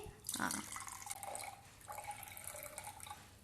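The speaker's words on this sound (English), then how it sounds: "Now today we are going to pour in the water to this glass" Water poured from a jug into a glass, a faint splashing trickle in short bursts with small pauses, quiet and close in a calm room.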